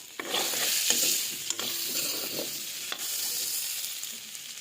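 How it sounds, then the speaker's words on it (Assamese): Steady frying sizzle of sesame paste fills the whole stretch, with scraping stirs and clinks of a utensil against a pan at a few moments, close and fairly loud. "অলপ সময় মই ভাজি লৈছোঁ।"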